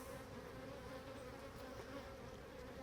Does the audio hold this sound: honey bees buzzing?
yes